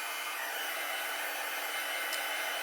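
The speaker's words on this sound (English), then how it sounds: "When you're first heating up your heat tool, you want to move it around a lot." A craft heat tool blows hot air to heat-set embossing on a Stampin' Up! balloon birthday card, giving a steady, close, even whooshing hum that holds unbroken throughout, with no talking.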